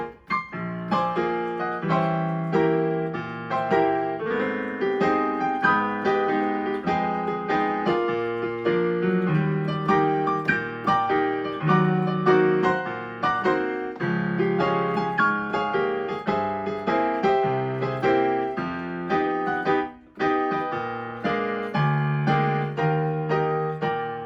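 A piano roll of a tune plays, with lively continuous piano chords and melody in a steady rhythm, clear and alone for the whole stretch.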